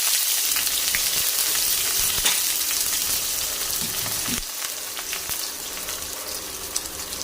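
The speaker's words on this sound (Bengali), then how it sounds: "পেঁয়াজটা দিয়ে দিলাম, এই পেঁয়াজটা লাল হবে" Three medium sliced onions hitting hot oil with dried red chillies and bay leaves for ghugni, a loud, steady sizzle and crackle filling the whole stretch, with a brief burst of spatter partway through.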